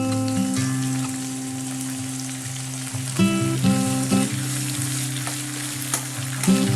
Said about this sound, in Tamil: உப்பு போட்டு நல்லா வதக்கி விட்டுருவோம்.